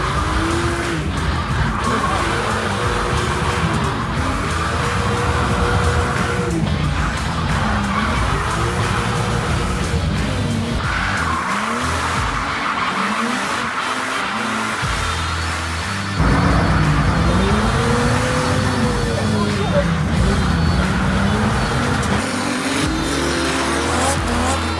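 A car drifts along a winding mountain touge road, engine revving hard while the tyres squeal and skid in long repeated slides, loud and close throughout.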